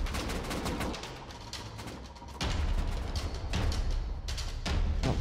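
AK rifle fire during a raid in Rust, dense rapid bursts of gunshots crackling almost continuously, with louder volleys partway through and near the end.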